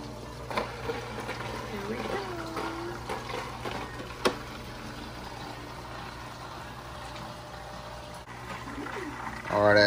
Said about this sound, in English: as you see, the water working its way out right now